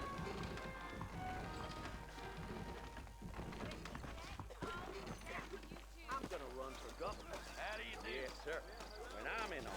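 Horse hooves clip-clop steadily through a busy scene in the video game Red Dead Redemption, with a voice talking and background music throughout.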